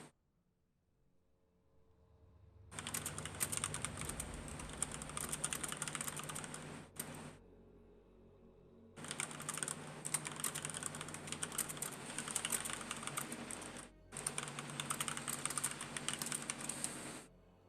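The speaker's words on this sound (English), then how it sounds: "Just typing some stuff to him because he's on my team and I'm allowed to." Keyboard typing during a break in a GNL Season 5 esports match, three sustained bursts of rapid, close key clatter separated by short pauses, with no talking.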